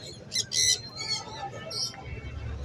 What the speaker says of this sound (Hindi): इसके अलावा हम ब्लू साइनामन किनोर का जोड़ा लेकर आए हैं